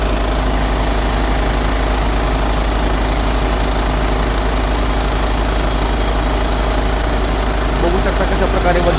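A Mahindra Arjun 555 tractor engine drones steadily at close range, driving a 6x6 double PTO water pump, a continuous low idling rumble with a constant hum that holds without a break.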